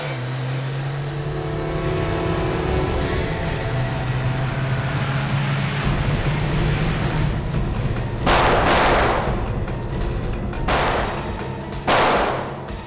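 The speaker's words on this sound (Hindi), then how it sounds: "ये लोग कौन फायर कर रहे हैं सर?" Gunfire in a TV crime drama, where a loud crackling burst of shots breaks in over a droning engine and music bed and is followed by a second, shorter volley.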